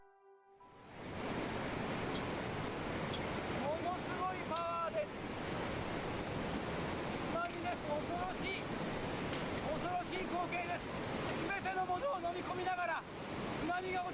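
Massive tsunami waves strike the Japanese coast in a continuous, loud roar of surging water that holds steady throughout, with faint voices and scattered tonal sounds mixed in.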